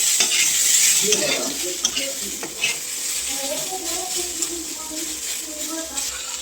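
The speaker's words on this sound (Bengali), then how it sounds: "পেঁয়াজটা দিয়ে দিয়েছি" Onions and green chillies frying in oil with cumin, stirred in a pan for a chicken curry, giving a steady close sizzle with scraping stirs and occasional utensil knocks, while a voice speaks quietly over it.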